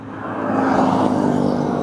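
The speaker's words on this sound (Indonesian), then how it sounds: "Pas banget ada truk." Truck passing on a road in rural East Java, a broad rumbling engine swelling closer and staying loud and steady with no talk.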